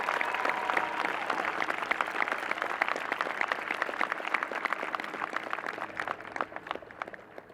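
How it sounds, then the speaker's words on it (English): A crowd at a high school graduation ceremony applauds steadily, dense clapping holding strong before gradually thinning and fading toward the end. "join me in giving a round of applause"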